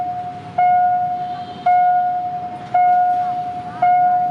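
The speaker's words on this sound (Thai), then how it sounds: "ตอนนี้รถไฟจะมาแล้วครับ ตอนนี้ไม้กั้นลงแล้วนะครับ" A level-crossing warning bell at Urupong halt in Thailand dings at a steady, slow rhythm as the barrier lowers for an approaching train, four strong strikes ringing out close by over faint background noise.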